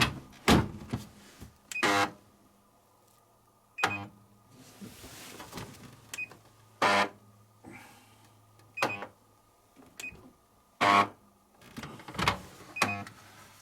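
Front-loading washing machine with a troublesome outer door, set to a rinse and spin cycle and started: a string of short beeps and mechanical clunks and whirs at fairly regular intervals, close and fairly loud, with no talking.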